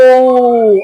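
A tigress calls her cubs: a single drawn-out, tonal call, loud and close, holding a steady pitch for nearly a second before trailing off.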